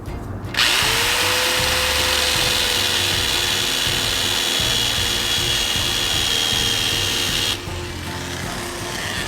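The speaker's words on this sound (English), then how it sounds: "So I'm gonna take the drill and go for it" A power drill runs steadily and loudly for several seconds, grinding rust off the metal body of a VW Bus with a harsh, scraping buzz before cutting off near the end.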